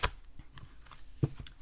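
Sacred Wheel oracle deck cards with nice cardstock being shuffled, giving soft riffling and flicking bursts with a few sharper snaps, close and fairly quiet with no talking.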